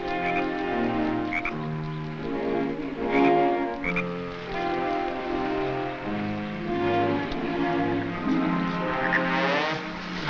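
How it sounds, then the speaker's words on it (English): Many frogs croak in a dense, overlapping chorus, with deep repeated calls layered over higher chirps, loud and steady throughout. "A frog on the far bank"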